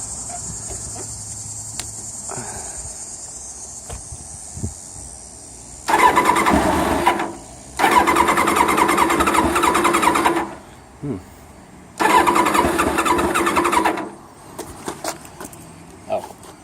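A cold 1994 Kawasaki ZX-7 L2 Ninja motorcycle engine cranks in three loud bursts of a couple of seconds each, close by, with crickets chirping steadily between the attempts.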